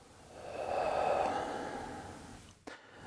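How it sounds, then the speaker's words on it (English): One slow, deep breath is drawn in and then let out softly, a gentle airy rush near the listener that swells and fades, ending with a short sharper puff of air. "let's take a slow, deep breath. Hold it, and slowly exhale"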